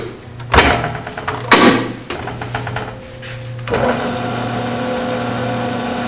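A wood lathe spins at 1800 RPM while turning a screwdriver, giving a steady mid-pitched motor hum with a tonal whine, broken near the start by two loud knocks and clatters before settling into a constant drone.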